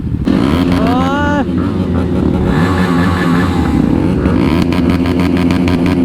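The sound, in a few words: motorcycle engine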